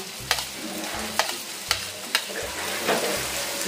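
Chopped white onion sautés in a hot pan, a steady close sizzle broken by several sharp scraping stirs at a loose rhythm, with no talk.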